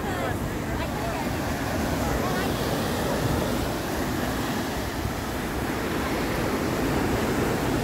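Rough surf at Cancun, Mexico crashes continuously against the shore up to the palm trees, with heavy, roaring wave noise and gusty wind buffeting the microphone throughout.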